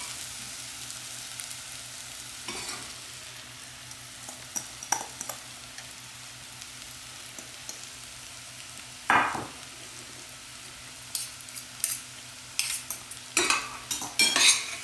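A potato samosa filling with red chili and spices is stirred in a frying pan: soft scraping and occasional spoon clinks against the pan over a faint sizzle, with sharper clatters near the end.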